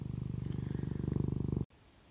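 A cat purrs close up in steady, rhythmic rumbling pulses for about a second and a half, then stops abruptly, leaving quiet room tone.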